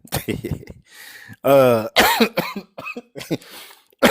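A man coughs forcefully several times in a row, loud and close, with short gasping breaths between the bursts.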